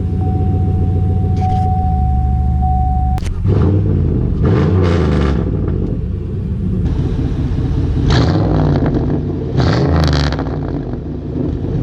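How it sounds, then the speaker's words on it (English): Pontiac Grand Prix GXP engine and exhaust rumbling and revving close by, a steady low drone swelling in several rising and falling pulls, with a brief high tone at the start. "So the sound is amazing from the exhaust, the engine, everything."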